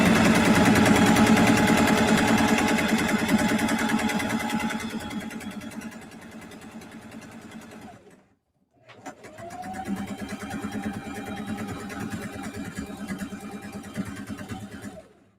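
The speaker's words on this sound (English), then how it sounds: "And then I'm just going to sew straight." A sewing machine stitching a fabric book cover, its motor whirring steadily and loudly up close, pausing briefly midway before running again in a second continuous stretch.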